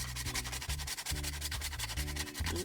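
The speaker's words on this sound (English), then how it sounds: "I'm gonna grate some more nutmeg" Nutmeg being grated for bulgur wheat porridge: continuous close rasping strokes in a steady back-and-forth rhythm, loud and alone.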